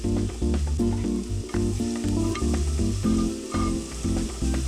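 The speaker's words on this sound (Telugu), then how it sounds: "కడాయిలో నూనె కొద్దిగా వేసుకొని నూనె వేడయ్యాక జీలకర్ర, కరివేపాకు, ఉల్లిపాయలు వేసి వేయించుకోవాలి." Onions, cumin seeds and curry leaves fry in hot oil in a kadai, giving a continuous close sizzle beneath rhythmic background music.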